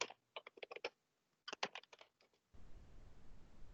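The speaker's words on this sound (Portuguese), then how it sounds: "Vai digitar assim, ó." A computer keyboard is typed on in two quick close bursts of clicking keystrokes separated by a short pause, followed by a low background hiss.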